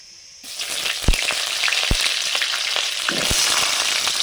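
Spiced greens frying in a pan with panch phoron and chopped tomato, a steady close sizzle with a few sharp pops and crackles from the oil, starting suddenly and building slightly louder.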